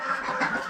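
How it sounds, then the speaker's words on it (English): Backyard chickens clucking close by, a steady run of busy overlapping clucks with no talking. "And you can hear the chickens."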